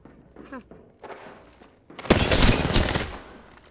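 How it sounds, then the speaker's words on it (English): Gunfire from players shooting each other in a video game starts as faint scattered shots, then erupts into a loud, rapid burst of automatic fire that gradually thins out. "Thank God they're shooting each other."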